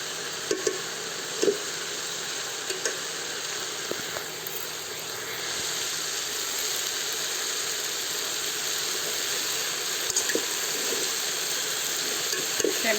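Okra and tomato bajji cooking with coriander in a pan, stirred as it softens: a continuous loud hiss and sizzle with occasional clinks of the spoon, no talking.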